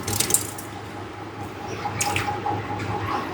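Water pours into a fish tank in a steady splashing trickle, moderately close, with a few sharper drips and splashes standing out.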